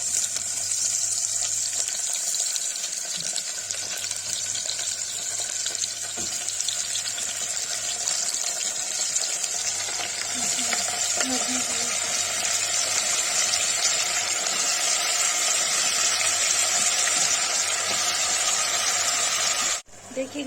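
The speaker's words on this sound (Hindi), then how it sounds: "देखिएगा ये भूंज रहा है।" Lotus stem and onion fry in hot oil for a wazwan-style dish, a steady close hissing sizzle that runs nearly unbroken before stopping at the end.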